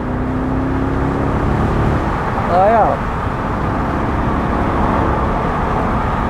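A blue 2001 BMW Z8 Roadster pulls away under throttle, a broad engine roar with a short rising whine partway through, while someone talks over it.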